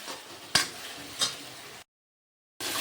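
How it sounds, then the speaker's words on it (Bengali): Ginger paste and garlic frying in a pan for a village-style chicken curry, a steady sizzle broken by two sharp stirring scrapes, then a brief silence before the sizzle resumes. "দিয়ে দেবো দু চা চামচ আদা বাটা এটা এবার ভালোভাবে একটু কষিয়ে নেবে"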